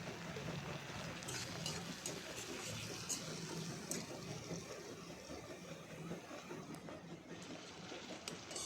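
Mashed tomato stirred into reddened fried onion in a pan, a continuous soft sizzle and scraping stir with occasional light clicks of a utensil, steady throughout.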